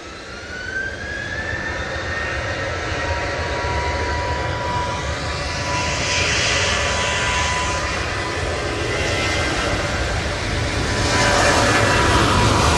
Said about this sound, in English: Sorry, I've just missed that Eurowings arrival